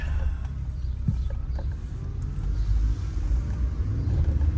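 A 1991 Chevy 1500 pickup truck driving along, a steady low engine and road rumble heard from inside the cab, continuous and fairly loud with no breaks.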